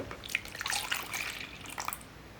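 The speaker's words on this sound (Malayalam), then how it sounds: "ഇനി വേറൊരു പാത്രത്തിലേക്ക് നമുക്ക് 1 കപ്പ് മിൽക്ക് ചേർക്കാം" One cup of milk poured into a separate bowl for a homemade chocolate cake, a short soft splashing pour with light dripping, quiet and close.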